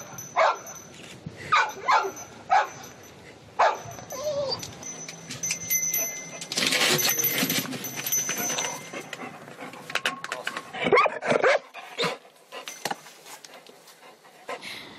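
Rescue dogs, German shepherds and labradors at a search-and-rescue dog handlers' competition, bark in sharp repeated bursts with panting and yips, some near and some further off, amid outdoor background noise.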